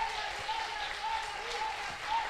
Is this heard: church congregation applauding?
yes